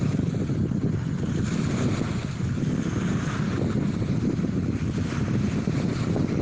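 Southwest wind along the shore of the Araruama Lagoon in the town centre, a constant heavy roar buffeting the microphone with a low rumble and a breathy hiss over lapping water, loud and unbroken, with no voices.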